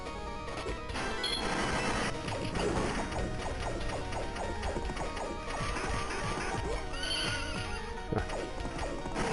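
Inside a video game, a horse neighs loudly among clip-clopping hooves and ratcheting, gear-like mechanical clatter, all packed into a dense, continuous soundscape with no talking.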